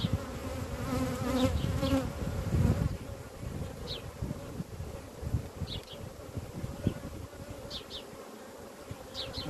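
Dense, steady buzzing of many honeybees in an open vertical hive, a warm droning hum with occasional individual bees whining past.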